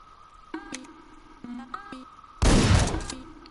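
Shotgun blasts from the top-down shooter game Hotline Miami: two short reports, then a louder, longer burst of gunfire near the end. Faint electronic tones sit in the background, with no talking.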